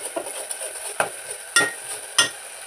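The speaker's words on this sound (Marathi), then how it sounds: "कांदा ना चांगला पटकन फ्राय होईल" Oil sizzles softly as salted onion fries while a utensil scrapes the pan in sharp strokes roughly every half second, up close with no speech.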